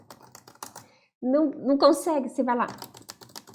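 Rapid, light clicking of keyboard typing as a homemade sound effect, quiet and close, running under someone talking in the middle.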